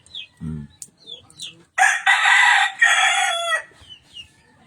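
A rooster crows loudly and at length, with scattered clucks from chickens before and after the crow.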